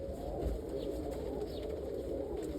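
Soft cooing of roller pigeons inside a loft against a steady background hum, low and somewhat distant, with occasional faint chirps.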